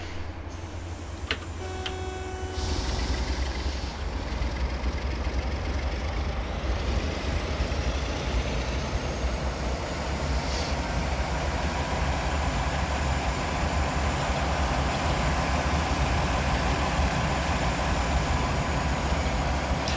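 Class 47 diesel locomotive in Train Simulator 2018 on the West Coast Main Line, engine noise swelling after a brief lull into a steady, loud rumbling drone with rhythmic rail clatter, continuous throughout.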